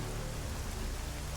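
Rainfall in Deus Ex: Mankind Divided, a constant soft hiss of drops with a low rumble underneath, quiet and unchanging over the short stretch, no talking.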